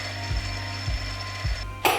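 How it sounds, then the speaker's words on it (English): A metal lathe center drilling runs with a steady whine and a low knock that repeats at an even beat, then a short hiss cuts in at the end. "we can center drill it"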